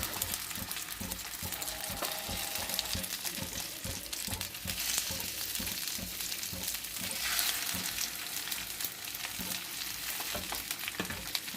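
Oil sizzles steadily in a frying pan as leaves sear, a continuous crackling hiss with faint scraping, no talking.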